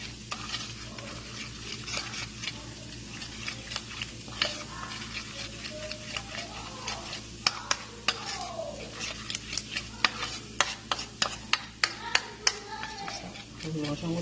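A spoon stirs white sauce in a pan, making repeated close scrapes and clicks against the metal beneath a faint sizzle, while a person talks.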